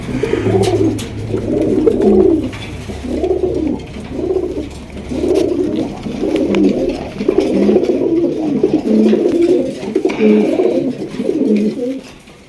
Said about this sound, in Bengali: এটা হলো মাদি কবুতর, আর নর নর পুরো ফুল গরম।